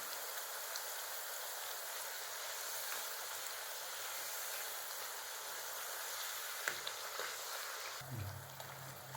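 Pepper thattai fry in hot oil, a faint, even crackling hiss throughout with a brief clatter near the end as the pieces are turned.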